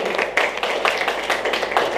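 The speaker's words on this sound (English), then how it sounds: "A big clap for our CEO" An audience at the opening session of an international heritage tourism conclave in India applauds the CEO of Welcome Heritage, a steady, dense patter of many hands clapping in a hall, fairly close and continuous.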